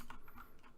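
Quick keystrokes on a computer keyboard as a Linux terminal command is entered, a short run of soft, uneven clicks close by with no voice over them.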